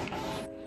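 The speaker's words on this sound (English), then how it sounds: "right now I'm printing out my resume" A printer at home prints a resume in a short, close burst of steady mechanical whirring that eases off near the end.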